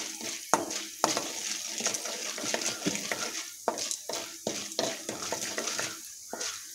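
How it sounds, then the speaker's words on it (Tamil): Chana dal roasting in hot oil in a pan, stirred with a run of close, brisk scraping strokes over a steady sizzle, with no talking. "இப்போது கடலைப்பருப்பை போட்டுக்கோங்க. ரொம்ப வறுக்க வேண்டாம், கலர் லைட்டாக சேஞ்ச் ஆனதும் எடுத்துருங்க."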